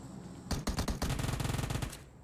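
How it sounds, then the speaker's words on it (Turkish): Gunfire rattles in a PUBG battle at Pochinki: a couple of sharp single shots, then a fast, loud automatic burst that lasts about a second and a half. "Oğlum her taraftan sıkıyorlar"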